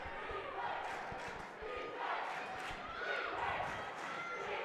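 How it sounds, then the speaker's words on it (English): A basketball crowd at a state tournament game chants in rhythmic, swelling waves, with sneaker squeaks and ball bounces from the court beneath the voices; the chanting is moderately distant and fairly faint. "You can hear the defensive chant from the crowd."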